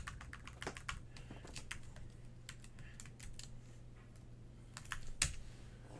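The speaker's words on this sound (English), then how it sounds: "I gotta type my password here" Someone types a password on a computer keyboard, irregular bursts of key clicks with pauses, close and fairly quiet over a low steady hum, no talking.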